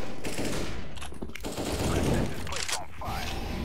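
AK rifle fire in Counter-Strike, a dense stretch of rapid automatic shots and bursts running through most of the clip, loud and close, with some game noise mixed in.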